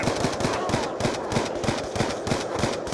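Rapid automatic gunfire from the Call of Duty Black Ops 2 Search and Destroy game mode, a steady stream of close, loud shots repeating without pause for the whole stretch.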